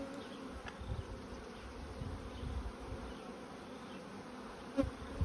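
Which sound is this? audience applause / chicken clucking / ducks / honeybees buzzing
honeybees buzzing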